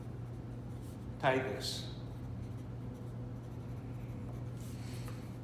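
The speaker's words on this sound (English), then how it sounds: "I'm going to write down in my notes, I'm going to write check pedal" A pen scratches across paper while notes are written during a bicycle inspection, one short quick burst of scribbling near the start under a steady background hum, with a person talking.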